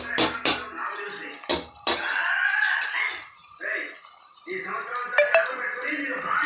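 Ingredients for a mushroom biryani sauté in a pan until golden brown: a loud sizzle broken by sharp clanks of a utensil against the pan, with scraping stirs in between.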